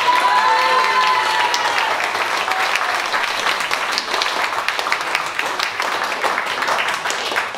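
A concert audience at l'Escale de Migennes applauds the band's guitarist: dense, steady clapping fills the whole stretch at full strength, with faint sustained tones at the start and no voice over it.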